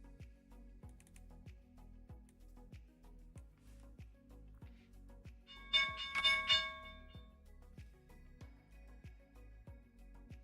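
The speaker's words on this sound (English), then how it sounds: "and that's the opening bell" A stock market opening bell rings once in a brief bright burst over a faint, steady ticking rhythm, quiet and in the background.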